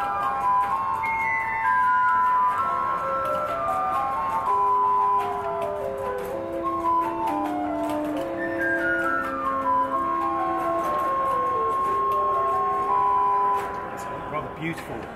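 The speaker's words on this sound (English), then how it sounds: "One piece, I'm going to use just a little tiny flute, which is a nice high stop, which sounds a bit like this." A 1580 Malamini pipe organ in the church of San Procolo, Bologna, plays a light high flute stop, a run of pure sustained tones weaving up and down in a melodic line, steady and close against a faint room murmur.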